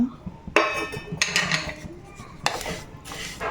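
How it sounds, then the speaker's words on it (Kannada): Sesame seeds dry-roasting in a pan for calcium-rich laddus give off close, irregular bursts of crackling and scraping, a few sharper pops standing out against a low background. "ಈ ಎಳ್ಳು ನೋಡಿ ಚಟಪಟ ಈ ಥರ ಸೌಂಡ್ ಬಂದರೆ ಸಾಕು, ಜಲ್ದಿ ಹುರ್ಕೊಂಡ್ಬಿಡುತ್ತೆ"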